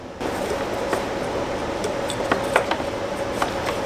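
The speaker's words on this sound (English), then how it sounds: "so now we're just going to go ahead and slide the entire rail out" A VW Jetta fuel rail with its injectors being slid out of the engine, giving a few light metallic clinks and taps over a steady background hum, close and fairly quiet.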